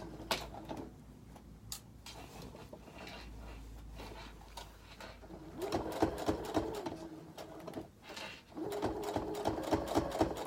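Sewing machine stitching a replacement zipper onto a jacket, running in short uneven bursts of fast rhythmic ticking at close range, with faint bird cooing in the background.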